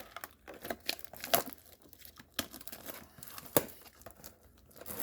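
A Historic Autographs Washington Chronicles trading card pack has its foil wrapper torn open, with close, crisp crinkling and tearing bursts in uneven spurts over a few seconds, fairly quiet and with no talking.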